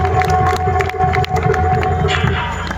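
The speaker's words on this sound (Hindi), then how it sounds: "एक बार जोरदार तालियां सब लोग बजा दीजिए" A dense crowd at an outdoor village Dhanush Yagya performance in India, many people clapping and cheering together, loud and continuous throughout, with voices mixed in.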